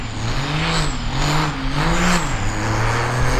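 A 2000 hp street Cummins diesel truck launches off the line, its engine roaring loud and close with a rising and falling drone as it pulls hard, with no talk over it.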